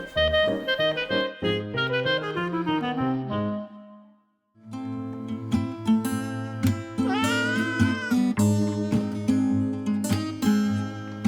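A pet cat meows repeatedly indoors, a close, loud run of tonal, drawn-out calls with a brief pause midway, then more insistent, wavering cries that continue to the end.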